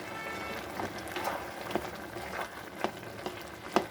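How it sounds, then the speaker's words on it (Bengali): Bottle gourd curry being stirred in a pan right after the lid comes off, cooked on high flame: a soft bubbling sizzle runs throughout, broken by several scraping spoon strokes against the pan, ending with a sharper clink. "এখন ঢাকনাটা খুলে নেব। খুলে একটু নেড়ে চেড়ে নেব।"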